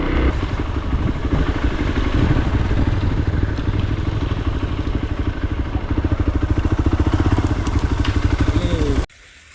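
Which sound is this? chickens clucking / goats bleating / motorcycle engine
motorcycle engine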